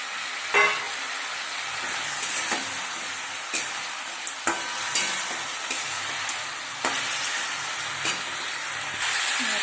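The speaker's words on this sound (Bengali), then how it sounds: "জিরে গুঁড়ো কাশ্মীর দিয়ে মশলাটা কষে নেব" Masala with onion, ginger, garlic paste and cumin powder frying in a pan, a continuous close sizzle punctuated by repeated knocks and scrapes of stirring.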